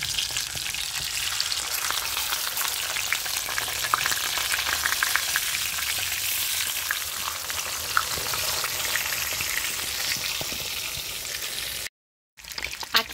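Hamburger patties fry in a pan with a steady, close sizzle and crackle that runs unbroken for several seconds before a brief gap.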